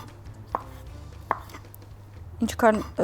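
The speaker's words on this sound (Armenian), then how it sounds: "Ցիտապտուղները 3 մասի կարող ենք" A few sharp knife cuts through olives on a board, spaced apart, then a quick cluster of chops near the end; quiet kitchen otherwise.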